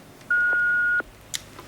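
An answering machine emits a single steady electronic beep lasting under a second, clear and close against a quiet background, followed by a brief click.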